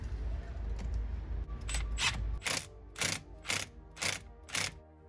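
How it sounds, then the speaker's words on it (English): A hand ratchet works the steering wheel bolts on an Audi TT during a carbon fiber wheel install, starting with faint low rumbling, then five or six crisp, evenly spaced clicking bursts of pawl ratcheting, close and fairly loud. "Here I had to use a ratchet because I didn't really want to strip the bolts."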